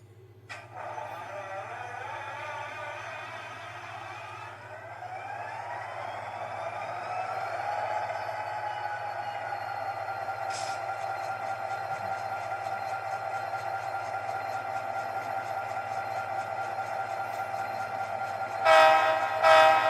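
A LokSound 50348 model train sound decoder plays steam locomotive sounds through a small speaker: a rising engine hum builds and holds steadily, with whistle blasts and short bursts near the end, moderately loud and close.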